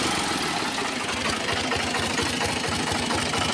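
An Al Ghazi 2023 model tractor engine idles loudly and close by with a steady, rhythmic knocking chug and a low vibrating rumble throughout.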